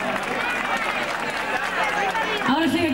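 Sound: audience applause for the dancers

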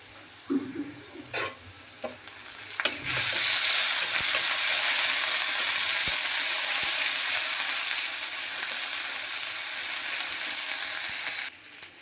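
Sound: ginger garlic paste frying with onions

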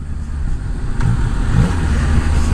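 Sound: Yamaha Niken motorcycle engine revving as throttle opens

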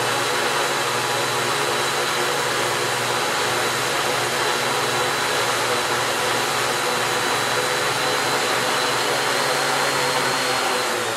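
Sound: T650Q aircraft motors running at 50% throttle

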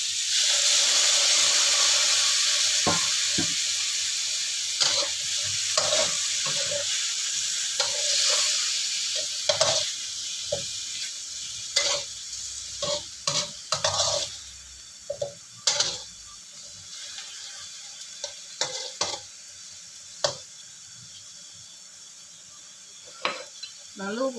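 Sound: broth poured into pan with chicken, stirred and sizzling

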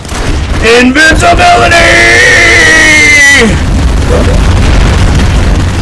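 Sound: bomb explosions in a video game

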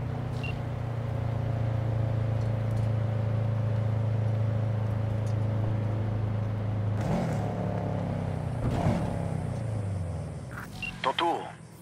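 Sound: car engine driving in Cyberpunk 2077 video game

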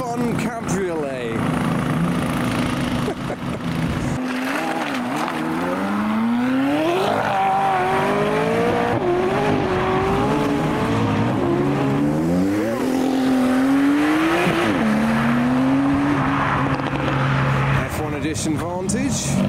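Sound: Porsche Cayman GT4 accelerating

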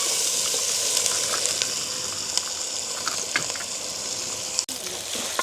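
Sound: stir-frying shallots in a pan

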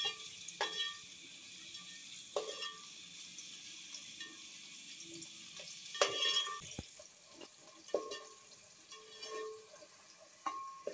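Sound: onions frying in oil while stirred with a spoon

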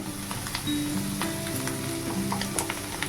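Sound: fish roe fritters frying with biryani masala

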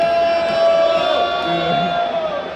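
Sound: NBA arena crowd booing a player

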